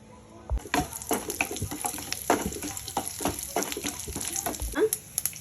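Mustard seeds, cumin, pepper and urad dal crackle and sizzle in hot oil in a pan for a South Indian tempering, with sharp popping bursts scattered throughout at close range.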